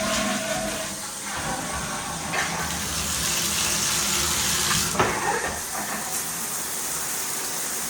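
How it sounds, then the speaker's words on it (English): Water running steadily from a bathroom tap in a house, a continuous close gushing rush with small shifts in level and no talking. "Water runs."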